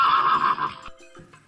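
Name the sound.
horse neighing in a video game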